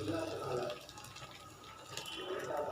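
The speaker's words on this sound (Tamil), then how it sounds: "இப்போ நம்ம இதுக்கு சுடு தண்ணி நம்ம ஊற்றிக்கலாங்க." Hot water poured over soya chunks in a bowl, a continuous close gush of liquid with a filling tone, heard under a speaking voice.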